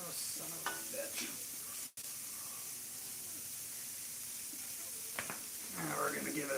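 Shrimp fry in butter in a hot pan, giving a steady bright sizzle and hiss, broken by a brief drop near two seconds and a few stirring clatters toward the end.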